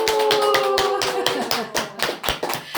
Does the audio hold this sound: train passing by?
no